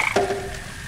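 A frog croaks at a pond in the video game Memoranda, one short close call with a brief rising tone that fades out.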